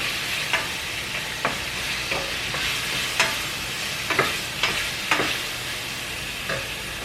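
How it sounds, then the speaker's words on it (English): Garlic and onions sizzle steadily in a hot pot while a utensil stirs them, with a series of sharp scraping clicks against the pot and no talking. "So I add my garlic. I'm going to add my onions. Stir that up a little bit."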